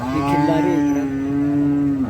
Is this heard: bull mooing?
yes